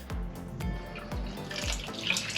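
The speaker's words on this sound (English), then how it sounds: "Yep, it's the shower. Turn it off!" Water from a leaking shower running steadily indoors, with a few soft knocks or clunks at regular intervals under the continuous hiss.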